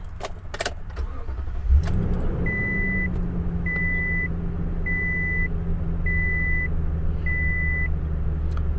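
A 2021 Toyota Tundra SR double cab starts with a brief crank, then settles into a steady low idle. A faint chime repeats at a regular interval over the engine.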